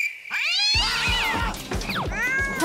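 Cartoon-style cat meows and drawn-out caterwauling yowls, several rising and falling cries in quick succession, loud and close with no talk over them.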